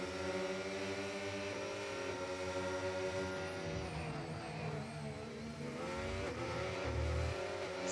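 Race car engines in a sim racing game at Montreal, a sustained high-revving drone with pitch shifts as gears change and a couple of low thumps near the end.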